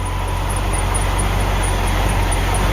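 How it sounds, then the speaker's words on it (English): A classic Ford engine idling smoothly, a steady loud mechanical drone with an even hum and no variation, heard close up without talk. "Motor smooth as can be"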